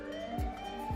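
A wailing police-style siren, loud and continuous with rising and falling pitch sweeps, heard alone without voices.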